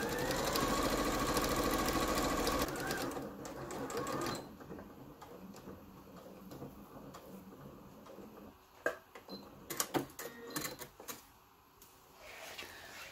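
A sewing machine stitches fabric for a Christmas sack in a loud steady run for a few seconds, then slows into softer intermittent whirring and ticking with a few sharp clicks.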